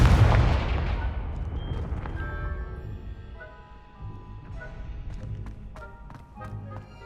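A Confringo explosion spell goes off in Hogwarts Legacy with a loud, booming blast that rolls away slowly, leaving soft game ambience and a few light taps behind it.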